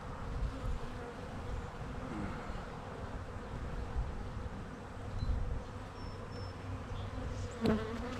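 A steady, dense hum of many honey bees buzzing close by, continuous throughout with slight swells and a faint click near the end.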